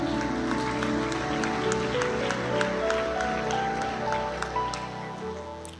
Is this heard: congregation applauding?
yes